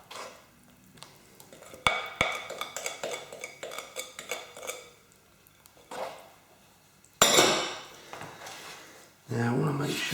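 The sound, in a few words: spoon mixing carrot cake batter in a bowl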